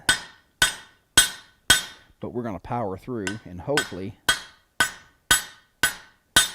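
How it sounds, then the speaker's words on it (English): Steel hammer blows on metal in a shop, sharp ringing strikes in a steady rhythm that pause while someone speaks, then resume, loud and close. "notice how careful I'm having to be about getting that hammer in there"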